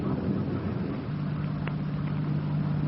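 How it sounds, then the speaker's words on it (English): Radio-drama effect of a car approaching up a road, a low steady engine hum emerging beneath a rain-and-wind wash, growing more defined and sustained, no voices. "The car's coming up the road toward us, sounds like."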